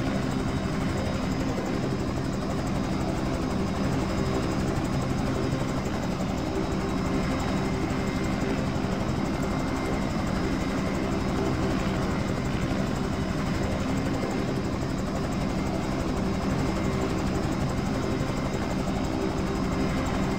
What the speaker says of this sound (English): It's the new Bell 222. This is actually the Airwolf helicopter.